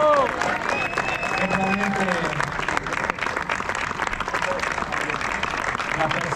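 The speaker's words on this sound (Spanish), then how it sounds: "yo lo que quiero es un fuerte aplauso a mi mujer" Audience applause and cheering at the opening of a padel tournament, dense and continuous clapping with shouts and voices rising over it early on.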